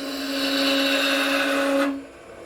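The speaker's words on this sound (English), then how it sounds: "You gotta love turning green wood." A wood lathe turns a green-wood goblet from a branch with a steady, close, high-pitched hum that cuts off abruptly near the end.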